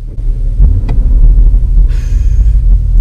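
A Porsche Cayenne Turbo S SUV on a road tour gives off a deep, steady low rumble and throb, recorded close, with a brief higher-pitched whine rising partway through.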